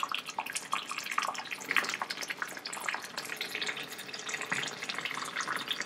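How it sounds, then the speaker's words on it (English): Hot water poured carefully from close by into a container for a water cycle demonstration, a soft continuous trickling and splashing with scattered drips, fairly quiet and steady throughout. "carefully pour the hot water into the container"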